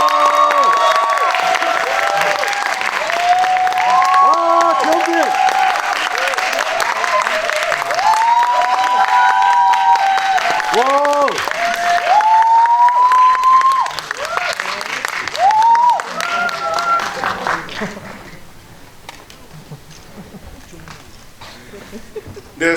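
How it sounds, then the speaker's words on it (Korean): Audience applause and cheering welcome guests at a Korean film GV special screening event, loud sustained clapping with crowd voices that fades out toward the end. "오늘의 게스트분들 큰 박수로 맞이하겠습니다"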